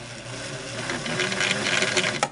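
A Singer model 466 sewing machine runs steadily after a gear swap and belt reset, a close, continuous whirring mechanical hum with a faint rhythmic rattle and a brief click near the end.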